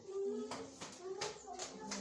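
Hands clapping in a few sharp, uneven claps during a church gathering, faint and somewhat distant, with a voice and other talk heard alongside.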